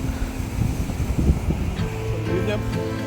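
Sea surf rolls and washes near Vizhinjam harbour by the lighthouse, a continuous rumbling wash mixed with heavy wind buffeting and faint voices in the background.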